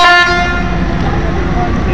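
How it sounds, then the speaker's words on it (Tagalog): A loud car horn honks continuously, its steady bright tone sustained through the whole moment amid street noise and some voices. "Lakas sa busina."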